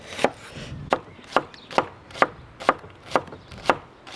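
Three small raw onions are finely chopped with a knife on a board, a steady run of about nine crisp, evenly spaced chops, close and loud with no talking.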